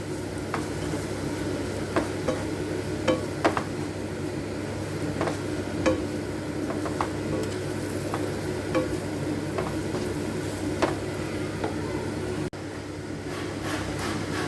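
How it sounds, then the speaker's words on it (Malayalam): Garam masala and turmeric powder sizzle steadily in a pan, with regular scraping taps of a spoon stirring throughout. "കുറച്ച് മഞ്ഞൾപ്പൊടി ഒന്ന് മൂപ്പിച്ചെടുക്കാം"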